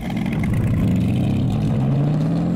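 Loud, close snarl of the Devel Sixteen supercar's 5,000 horsepower engine, a deep throbbing growl that holds steady and slightly rises in pitch toward the end.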